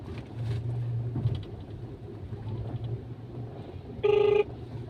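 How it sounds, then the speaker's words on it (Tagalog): A phone ringback tone sounds once for about half a second, loud and clear over steady road noise and low engine hum inside a Transportify delivery vehicle while calling the customer. "tawagan natin si customer"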